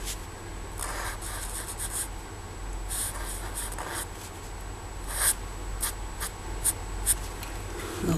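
A pencil draws an apple leaf on paper with close, soft scratching strokes in short bursts separated by brief pauses, growing a little louder toward the end.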